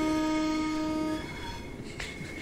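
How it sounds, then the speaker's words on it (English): A loud, sustained train horn blast from a Class 465 in Train Sim World 3 sounds for about a second, then cuts off, leaving steady rumbling train noise. "Let's check the horn works."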